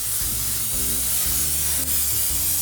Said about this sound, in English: just using a little bit of cooking spray